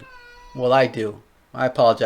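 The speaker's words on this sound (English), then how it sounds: "That's my cat. He always tries to crash my videos." A pet cat meows loudly and close by in several drawn-out cries, while someone speaks briefly in between.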